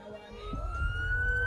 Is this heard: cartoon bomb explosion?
no